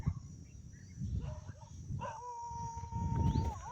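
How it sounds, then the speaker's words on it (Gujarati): A dog barks and howls faintly from below, its drawn-out cries rising over low rumbling background noise. "નીચે કૂતરાનો બહારો બોલે છે"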